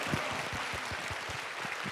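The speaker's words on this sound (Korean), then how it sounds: "여러분과 함께 감사보고 토크쇼와 함께 펼쳐나갈 이 6분께 다시 한번 큰 박수 부탁드립니다" An audience at a Korean church talk show claps steadily, a dense, even wash of applause lasting throughout.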